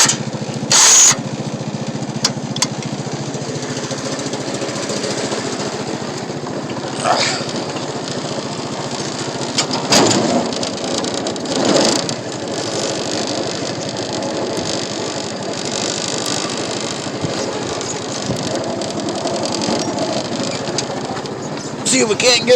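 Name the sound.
John Deere Gator utility vehicle engine backing up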